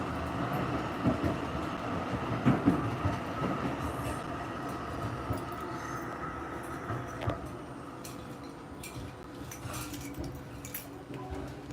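A tram running along Route 1, its steady rolling rumble and rail noise with occasional wheel squeal and clacks, heard from inside at moderate level.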